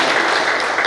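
Applause from the audience at a Dakshina Kannada private bus owners' association office inauguration in Mangaluru, a dense, steady burst of clapping filling the short moment with no talk over it.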